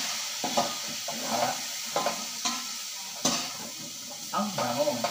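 Papaya pieces cooking in coconut milk with chicken in a pan, a steady sizzle broken by repeated scraping stirs and light clinks of a utensil against the pot.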